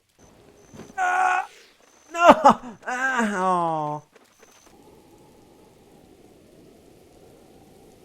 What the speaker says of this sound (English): When it's raining!